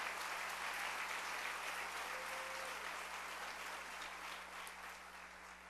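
Audience applause at a gathering, a dense, steady wash of many hands clapping that holds and slowly tails off, fairly faint and with no one speaking.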